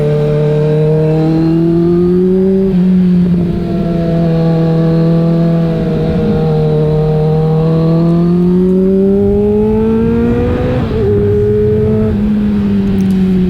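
A Kawasaki Z900 motorcycle engine under way on a new rural road near Mae Chaem village, a loud close continuous drone whose pitch rises and falls gently with throttle changes and shifts, with wind rush underneath.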